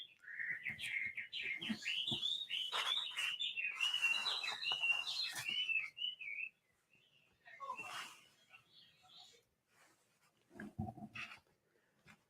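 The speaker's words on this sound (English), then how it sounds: "listen to this bird shop in the middle of Chinatown, where it sounds like the woods in spring" Many small birds chirp and trill in a dense, busy chorus in a Chinatown bird shop, then the calls thin out to scattered tweets with short, quieter gaps.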